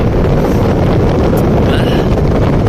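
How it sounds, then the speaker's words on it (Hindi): Strong wind roars steadily around a Honda Aqua hybrid car, a loud continuous buffeting rumble on the microphone. "तो बहुत तेज हवा होती"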